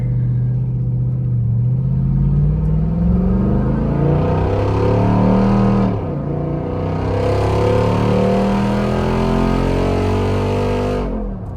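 A Jeep Rubicon 392 drives on a highway with a heavy load in tow, producing a loud, steady engine drone and road rumble that swells and eases as it cruises along.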